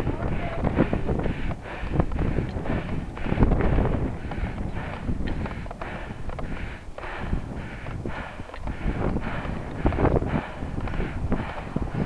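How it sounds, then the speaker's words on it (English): Wind coming off a hill buffets the microphone during a bicycle ride from Leslieville, Toronto to Scarborough along the Waterfront Trail, a steady low roaring rush with gusting swells and no talk. "Oh, here comes the wind off the hill too."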